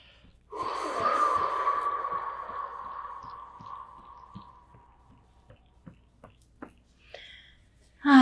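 A long audible exhale, a soft breathy whoosh pushed out during a breathing meditation, rises and fades over a few seconds, close and alone in a quiet room with faint ticks afterward.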